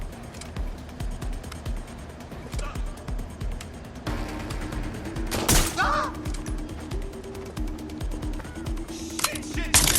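Gunfire in the video game Watch Dogs: Legion, a burst of sharp shots and rattling fire over a constant game backdrop, with voices speaking in the scene.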